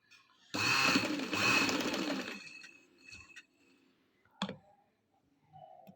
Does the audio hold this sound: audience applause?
no